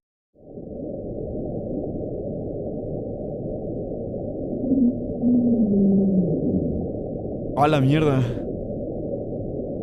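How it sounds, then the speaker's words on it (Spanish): An underwater recording from Antarctica of the mysterious sound known as Julia: a low, muffled rumbling wash with a slowly descending moan-like tone, followed near the end by a brief shouted exclamation from a voice. "lo que acaban de escuchar es como esta voz de una mujer que se encuentra intentando hablar debajo del mar"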